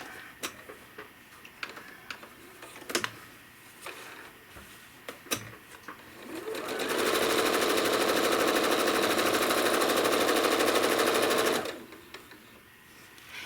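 A home sewing machine quilting a small cherries quilt runs in one steady, fast-stitching burst of about five seconds, preceded by light ticks and handling clicks.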